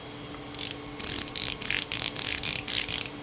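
The rotating bezel of a cheaper $64 Invicta watch turned by hand, giving quick runs of sharp, bright ratcheting clicks in several bursts, close-up with no talking.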